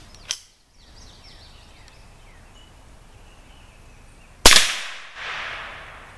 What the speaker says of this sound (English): we're going to be shooting the Ruger 1022 about 2 inches low of the top left corner of the steel pan